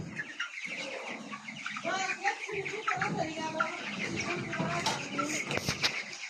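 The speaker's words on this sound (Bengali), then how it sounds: "দেখতে পাচ্ছেন আমার মুরগিগুলো মাশাআল্লাহ অনেক ভালো হয়েছে" Poultry farm chickens cluck and murmur continuously around a close microphone, with occasional sharper calls and wing flaps; a voice talks intermittently over the flock.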